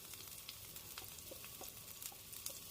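Spring onion whites and chopped garlic frying in hot oil for broccoli fried rice, a steady soft sizzle with scattered small crackles and pops throughout, fairly quiet and without voices.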